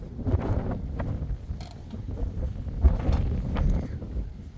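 Gusty wind buffets the microphone at a rainy, cold mountain viewpoint in the Azores, a low, rumbling roar rising and falling steadily throughout with no voices.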